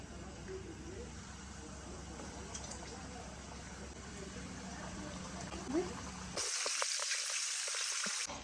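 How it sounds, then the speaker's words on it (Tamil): Chicken pieces frying in a pan of hot oil give a faint, steady sizzle that jumps to a louder, brighter crackle near the end as more pieces drop into the oil. "அப்படியே எடுத்து எண்ணெய் சட்டிக்குள்ள அப்படியே விடணும்"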